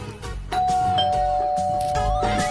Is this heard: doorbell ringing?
yes